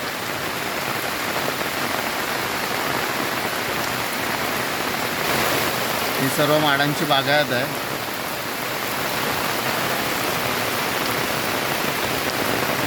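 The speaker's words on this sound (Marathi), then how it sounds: "अजून जर असा पाऊस पडत राहिला तर नक्कीच वर पाणी यायला वेळ नाही लागणार आहे" Heavy monsoon rain pours steadily in Rajapur, Konkan, a loud continuous hiss of drops on surfaces and foliage, with someone briefly speaking over it midway.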